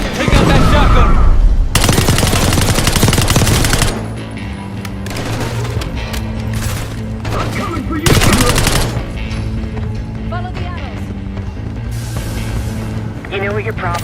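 Loud automatic gunfire in the Call of Duty: Black Ops 6 cutscenes, with a dense sustained burst early, another mid-clip, and scattered shots and impacts between, alongside voices.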